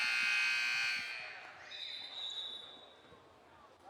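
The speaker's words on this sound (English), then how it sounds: "That was a buzzer." A buzzer sounds at a girls basketball game in a gym, a loud sustained electronic blare that lasts about a second and then fades into crowd noise and ball bounces.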